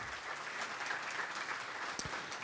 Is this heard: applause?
yes